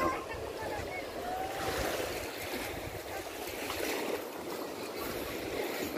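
Ocean waves at a white sand beach, a continuous soft wash of surf and water close by, steady and moderately loud, with wind and a voice talking in the background.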